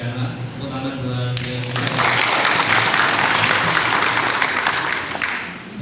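Crowd applause at a regional party coordination meeting for district head candidates, swelling from a voice into a loud, sustained wash of clapping that fills the room for several seconds.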